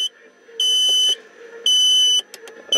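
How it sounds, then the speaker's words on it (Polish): A four-channel LCD thermostat's low-temperature alarm beeps in short, high electronic tones, two long pulses followed by a couple of brief chirps, close and clear over a faint hum. "Jeżeli temperatura jest niższa od alarmu, zostaniemy o tym poinformowani sygnałem dźwiękowym."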